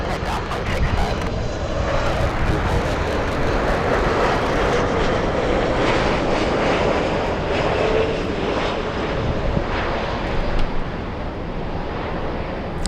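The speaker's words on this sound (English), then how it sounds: "flying in from Vancouver, a 737 MAX 8" A Boeing 737 MAX 8 airliner arriving from Vancouver flies over LAX airport, a loud sustained jet engine roar with wind buffeting up close, while radio chatter and voices run beneath it.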